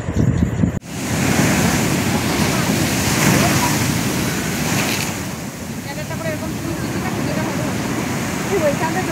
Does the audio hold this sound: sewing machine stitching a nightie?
no